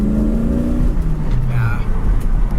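Engine of a red 1967 Ford Mustang coupe fitted with a new carburetor, droning steadily and loud while driving, with someone talking over it.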